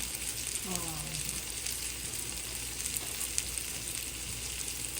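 Steady, close sizzle of an egg frying in oil in a pan, continuous crackling hiss throughout with a brief voice-like murmur near the start.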